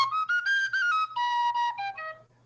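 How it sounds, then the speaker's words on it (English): A penny whistle plays a short melody of clear, pure notes, phrased in separate bursts that step gradually downward, heard close and alone with no voices. "So I always bring my penny whistle."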